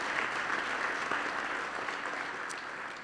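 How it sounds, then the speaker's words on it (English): Audience applause at a rabbinic ordination graduation ceremony, a steady dense wash of clapping from a large crowd, moderately distant and sustained throughout without talking. "they deserve this great round of applause"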